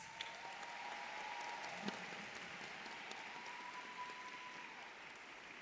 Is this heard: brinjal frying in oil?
no